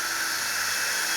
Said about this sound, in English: then we're just gonna drill straight through